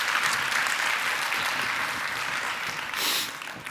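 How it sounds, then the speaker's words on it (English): Audience at a conference fireside chat breaking into sustained applause, a dense wash of clapping that swells slightly near the end, with no one speaking. "Can we give that a round of applause?"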